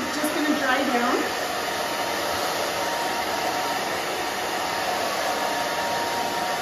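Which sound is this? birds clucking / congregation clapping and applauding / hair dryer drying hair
hair dryer drying hair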